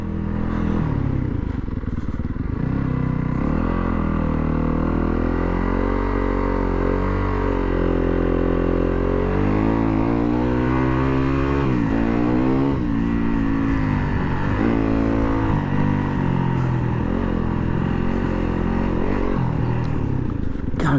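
A 2019 Yamaha WR250F dirt bike engine runs continuously while being ridden, loud and close, its pitch rising and falling with repeated throttle surges and revs throughout.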